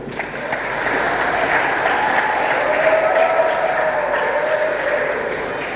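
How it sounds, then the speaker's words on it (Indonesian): A church audience applauds a youth choir: a steady wash of clapping that swells in after a brief lead-in and holds evenly, with faint voices mixed beneath. "Tepuk tangan dulu untuk remaja."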